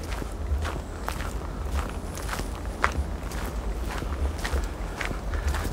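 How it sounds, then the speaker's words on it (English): Footsteps crunch steadily over pine needles on a quiet path in a St. Johns County suburb near Jacksonville, Florida, with an even walking rhythm, close and moderately loud, over faint outdoor background. "All I hear is my footsteps crunching on the ground when those pine needles."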